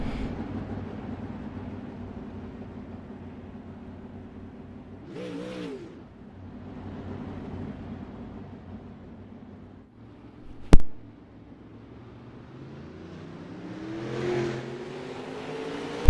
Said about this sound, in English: They'll take a lap here just to get a little mud on the tires, get the car familiar with the track